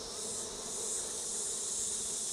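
Honey bees drone steadily around a hive frame pulled from a flow-frame hive, a dense continuous buzzing swarm close by with no voices.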